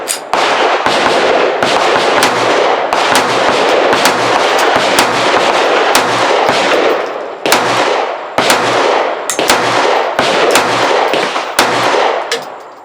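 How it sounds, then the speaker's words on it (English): A series of sharp, loud cracks from an SCCY DVG-1 9mm striker-fired pistol firing steel-cased ammunition at a range, roughly a dozen evenly spaced shots heard close and alone. "These are the first shots out of the gun"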